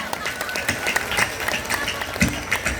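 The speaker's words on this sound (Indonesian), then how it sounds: "Tepuk tangan buat panitia, saudara." Audience at an Islamic religious gathering (tabligh akbar) clapping for the organizing committee, a steady dense wash of many hands, fairly loud and close.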